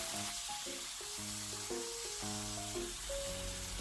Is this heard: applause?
no